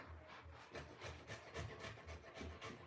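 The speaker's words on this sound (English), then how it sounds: "next we are grating these 3 cloves of garlic" Three garlic cloves rubbed across a kitchen grater while making broccoli, giving a faint, close, rhythmic rasping in repeated strokes with no talking.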